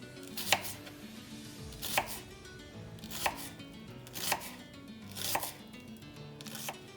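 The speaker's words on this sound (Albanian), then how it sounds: "Qepën e grim sa të mundeni të hollë." A knife finely chopping onion on a cutting board for a fresh beet salad, heard as short clusters of crisp, close cuts roughly every second, each cluster fading before the next.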